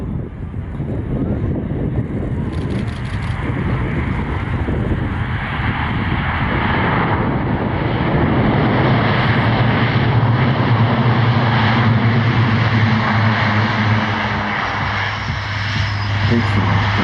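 A propeller airplane roars steadily at an airshow in Illawarra near Sydney as it lands, its engine drone loud and continuous with wind noise buffeting the microphone and the pitch shifting slightly as it passes.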